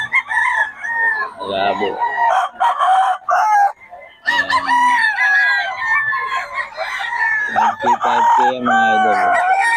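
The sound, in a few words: lemon sweater gamefowl roosters crowing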